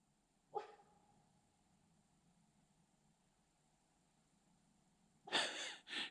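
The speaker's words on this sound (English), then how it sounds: "She barked at something" A single sharp dog bark rings out early, then quiet; near the end a pair of louder, closer barks or huffs.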